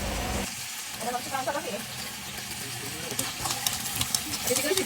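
Potatoes pan-frying in cooking oil, a steady broadband sizzle with crackling bursts and occasional stirring clatter, fairly close and continuous, with some voice in the background.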